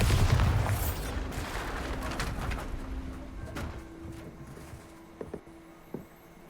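A Bombarda blasting spell explodes in Hogwarts Legacy: a loud, deep boom bursts at the start and fades into a long rumbling tail, followed by a few faint sharp clicks near the end.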